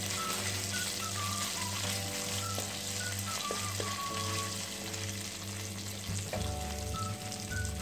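Grated ginger stirred into a sizzling dal tempering in a pan, a soft, steady frying crackle with light scraping of the spoon, faint and close, no voices.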